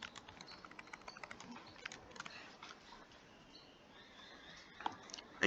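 Keys tapped on a graphing calculator, faint quick irregular clicks in a quiet room, with a slightly louder click near the end.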